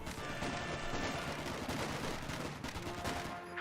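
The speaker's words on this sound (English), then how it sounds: "Vickers firing away, hitting." Vickers machine gun firing in a Company of Heroes 2 battle, a dense, continuous crackle of rapid gunfire mixed with other shots, loud and unbroken throughout.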